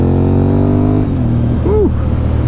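A rare motorcycle's engine heard while riding, a loud steady drone that drops pitch as the rider shifts gear, with wind rumble under it.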